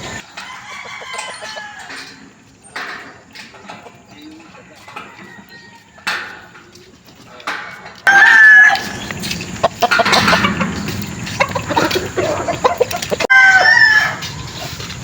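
Backyard chickens in Bambang, Bulakan, Bulacan cluck repeatedly, and roosters break in with several loud nearby crows during the second half. Someone talks intermittently underneath.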